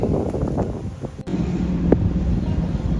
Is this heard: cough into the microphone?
no